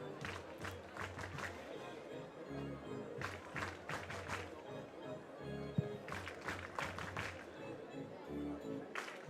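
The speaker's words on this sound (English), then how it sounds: "crowd getting into this a little bit" A baseball crowd at a European game between Germany and the Czech Republic cheers and claps, a distant, fairly quiet murmur with occasional swells under a commentator's voice.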